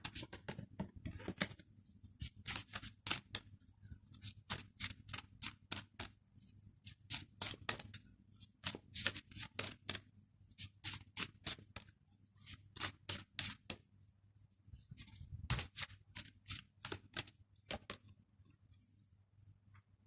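Tarot cards are shuffled by hand for a single-card draw, a long run of crisp riffling slaps and flicks in quick irregular bursts, close and clear with no talking.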